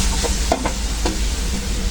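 A spoon stirs tomato with cumin, coriander powder and spices in a hot pan for a spiced potato curry, its scraping strokes standing out over a loud, continuous close sizzle, with no voices.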